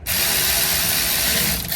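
A power tool with a 12 mm socket driving a bolt on the rear wheel hub of a Honda Accord, a loud, close, continuous whirring buzz that holds steady for under two seconds and then stops abruptly.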